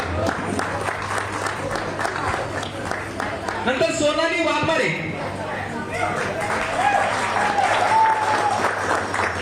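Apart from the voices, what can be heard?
audience applause at employee award ceremony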